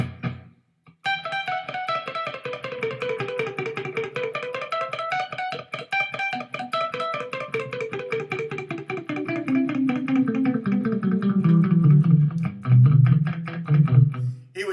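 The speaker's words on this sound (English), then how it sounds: "Almost sounds like the delay's too hot." An electric guitar plays a fast line of repeating notes smeared by a heavy delay, echoes piling up as the phrase slides lower and grows louder.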